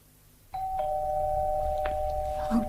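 A doorbell rings in a BBC radio murder drama, a steady two-tone electric chime that sounds sustained and fairly loud indoors, holding for a couple of seconds over faint room noise.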